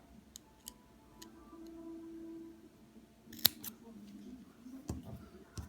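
Scissors snipping a few times at close range, quiet crisp clicks with a faint hum and soft background voice.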